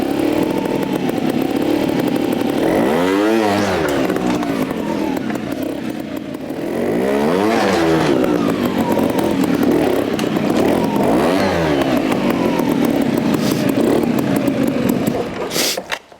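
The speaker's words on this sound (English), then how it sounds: "Now, honestly, I've just had a quick ride around there." A 2024 Beta Evo 250 trials motorcycle engine, close and loud, revving up and dropping back in repeated bursts as the rider works a section, with some clattering mixed in.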